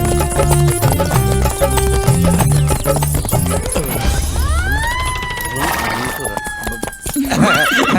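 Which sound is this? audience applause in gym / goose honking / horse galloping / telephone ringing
horse galloping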